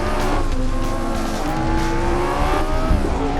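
Race cars in Assetto Corsa on the Pau street circuit roar close together while overtaking, engines whining and shifting pitch as they jostle, loud and sustained with a brief tire squeal.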